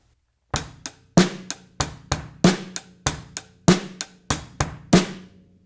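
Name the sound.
drum set rock beat with hi-hat, bass drum and snare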